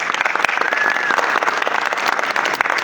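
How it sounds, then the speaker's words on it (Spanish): Applause for a speaker at a talk on citizen oversight groups in Medellín, a dense, steady clapping from an audience filling the whole stretch at even loudness. "le damos nuevamente el aplauso a nuestro ponente"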